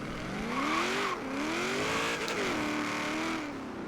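A 1970 Chevrolet Camaro Z28 in Forza Horizon 3 launches hard in a drag race, its engine revving loud and close, pitch climbing through several rising sweeps as it shifts, briefly lifting off the throttle before accelerating again.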